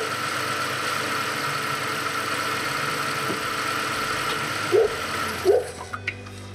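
A six-cylinder car engine idles smoothly and evenly at moderate level, with a few brief clicks and knocks near the end.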